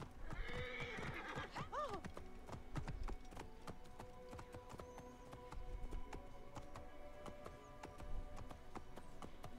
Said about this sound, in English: Oh, she's got a pretty horse.